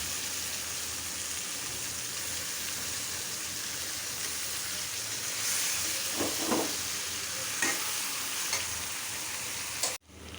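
Large rohu fish heads fry in spiced oil in a pan, a constant loud sizzling hiss with a few bubbling pops and stirring scrapes midway, ending in an abrupt clatter.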